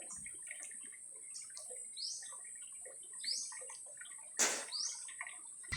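Water flows continuously at a river spot walled off with concrete flood barriers, a soft steady rush with birds chirping nearby and a brief louder splash near the end.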